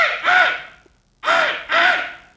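A man vocally imitates a crow: three loud, harsh caws, a pair, a short silence, then a third, each rough and nasal, delivered close and alone.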